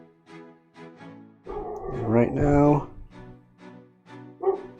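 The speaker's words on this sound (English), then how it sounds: "I don't know if you can hear my dogs." Two household dogs bark and yip in short bursts, loudest in the middle, while someone talks over them and keeps speaking as they settle.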